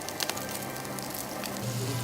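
Beef tripe (gopchang) sizzling on a grill at a Korean all-you-can-eat beef restaurant, a steady close crackle and hiss with faint pops throughout, no talking.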